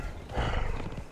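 A horse in the video game Conan Exiles gives a short, rough snort or whinny, swelling in the middle and fading over about a second, heard up close and alone with no talk.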